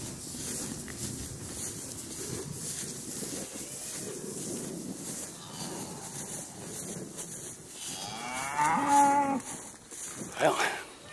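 Cattle being moved across a road on a farm, with several loud moos near the end over steady wind noise and faint background sounds.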